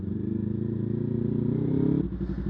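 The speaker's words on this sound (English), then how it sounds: "And that's why I like loud exhausts." A Yamaha R3 motorcycle fitted with a loud Coffman's slip-on exhaust drones steadily and builds slightly in pitch, then drops off at the end as the throttle eases, with no talking.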